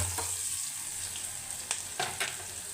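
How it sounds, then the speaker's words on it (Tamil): Curry leaves frying in oil for a dried fish thokku, with a faint continuous sizzle and a few soft stirring scrapes near the end. "அடுத்ததாக கொஞ்சம் கருவேப்பிலை ஆட் பண்ணணும். லைட்டாக அது வரைக்கும் வதக்கி பண்ணதுக்கப்புறம்"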